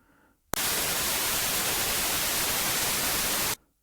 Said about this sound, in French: le système de haut-parleurs intégré de la maison s'est mis en marche